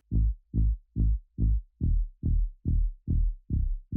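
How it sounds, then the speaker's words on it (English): Moog-style synth bass patch played on Sylenth for an EDM drop, solo: nine evenly spaced, punchy low plucks with a pulsing, throbbing rhythm, loud and dry with no other sounds. "this is a Moog bass on Sylenth"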